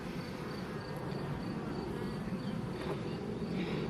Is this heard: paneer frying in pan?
no